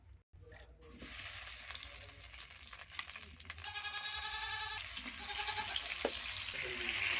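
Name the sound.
potatoes frying in oil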